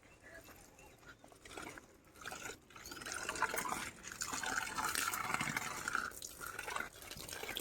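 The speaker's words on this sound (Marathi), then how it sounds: "सकाळी भरली वाटतं टाकी भरली भरली" Water pours and splashes into a household storage tank as it fills, a soft continuous gurgle swelling louder midway, with faint indistinct voices in the background.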